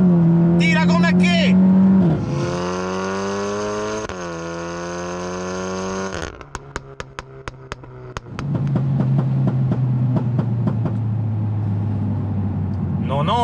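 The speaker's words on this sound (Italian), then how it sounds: "dobbiamo dare quel colpo di gas e lasciare di colpo il gas. Vai, full gas di terza" A tuned Stage 2 VW Golf 8 R producing over 400 horsepower is driven hard at full throttle in third gear, with its sustained engine drone climbing in pitch, then a burst of sharp crackles and pops, then a steady roar. People talk over it.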